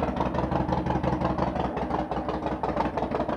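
A motorcycle engine idles steadily and close by, a continuous low rumble with an even pulsing texture and no voices over it.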